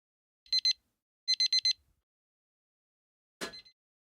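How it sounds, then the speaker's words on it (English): An electronic alarm beeps in two quick bursts of rapid high-pitched pulses, a short pause between them, followed by a brief louder burst of noise near the end, with nothing else audible. "that's the Tina alarm"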